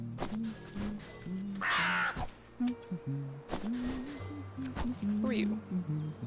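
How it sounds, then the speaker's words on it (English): A bird in the game Wytchwood caws several times in harsh, crow-like calls, heard among game sounds while a person talks over them. "Are you trying to kill the bird, sir?"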